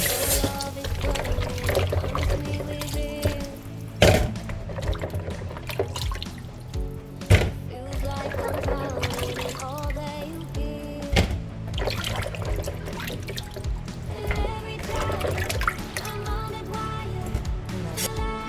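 Water poured and splashed over ingredients being washed in a kitchen, a continuous, close splashing and trickling with scattered clinks and knocks, and no talking.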